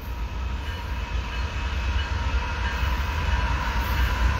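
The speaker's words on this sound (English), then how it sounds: "Got a westbound train coming at us." Westbound freight train in Fullerton, California rolling past nearby, a loud steady rumble and rush of wheels and cars throughout with no break.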